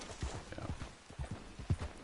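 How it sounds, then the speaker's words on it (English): A horse's hooves clip-clop in a PS4 video game, with quick, uneven beats that sound agitated against quiet game ambience. "And this horse is going nuts."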